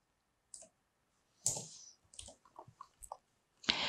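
A few sharp computer mouse clicks on a download button, isolated and spaced apart in a quiet room, with a brief rustle between them.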